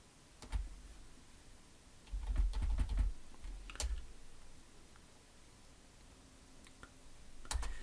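Typing on a computer keyboard while writing a C# program, with scattered bursts of clicky keystrokes, some louder clusters and pauses between, close and alone with no talk.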